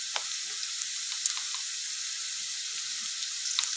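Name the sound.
ginger paste and turmeric frying in oil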